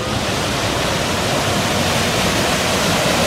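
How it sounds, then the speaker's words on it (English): A waterfall at a theme park entrance among landscaped rocks gives a dense, steady rushing roar, close and loud, constant with no talking. "I love all the rocks and the waterfall just over there."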